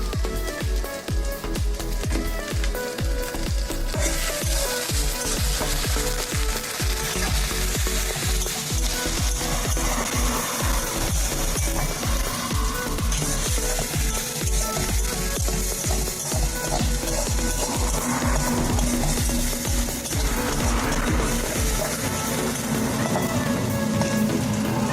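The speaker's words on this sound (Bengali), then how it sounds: "একটু মশলাটা একটু কষে নেবো, আমার একটু তেলটা কমে একদম তেল দিয়ে নিচ্ছি" Spiced masala paste frying in oil in a pan for a pork dish, a steady close crackling sizzle running the whole time with constant dense popping and spitting, no talk over it.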